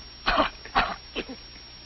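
Coughing and throat clearing in an old 1937 film comedy: three short, close, harsh bursts spaced about half a second apart, the last one weaker, with no talking.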